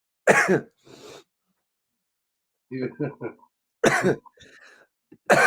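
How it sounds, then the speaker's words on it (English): A few harsh coughs, then a short cluster of throat-clearing grunts, followed by another burst of coughing; close and fairly loud with pauses in between. "Y'all see me coughing on here."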